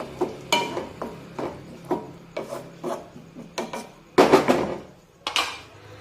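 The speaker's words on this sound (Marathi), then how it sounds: "मिक्स करून घेऊ कोथिंबीर" Repeated scraping and rubbing strokes of a spoon stirring moth bean lentils with coriander in a kadai, steady and rhythmic, with a louder, busier scrape near the end.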